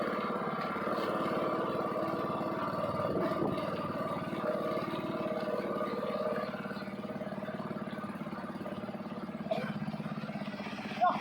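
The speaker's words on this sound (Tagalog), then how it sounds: "Itinabit na nga po ang water pump, ganun din ang puso, para simulang magpalabas ng tubig." A water pump runs at a newly built well, a steady motor drone with a pulsing hum that continues the whole time, fairly close and even in level.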